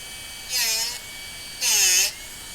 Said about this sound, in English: we can look in here and see where the bit is going to touch that grinding wheel, and we just touch it a few times on each side